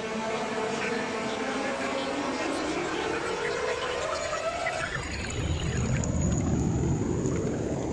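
A Sonicware Texture Lab synth produces a jet-engine-like roar, a dense hiss whose pitch sweeps downward then rises into a broad rushing noise, sustained and moderately quiet.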